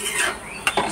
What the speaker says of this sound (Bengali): দুধ দিয়ে একটু এটা সুজিটাকে এমনি করে নেড়ে নিতে হবে